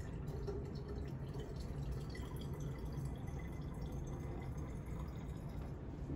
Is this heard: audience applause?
no